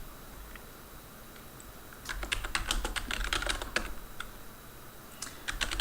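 A terminal command is typed on a computer keyboard: a quick run of close, crisp key clicks, then a short pause and a few more taps, with no talk.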